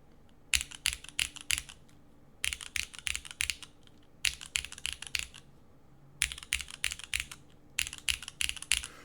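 Bursts of keystrokes on a mechanical keyboard fitted with GMK and SWG keycaps, typed in four or five quick clattering runs with short pauses between, close and clear with no talk.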